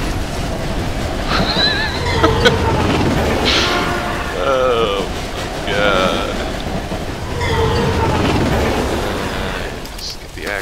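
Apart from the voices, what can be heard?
train passing in a video game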